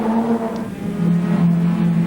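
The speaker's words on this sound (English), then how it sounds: "I think every HQ Holden 4-door sedan in the country has ended up as a race car" HQ Holden four-door sedan race cars, each with a 202 cubic inch Holden red six-cylinder engine and a standard three-speed gearbox, race in the 1996 Bathurst support race. A steady, close engine drone holds throughout, and its pitch shifts as the cars accelerate.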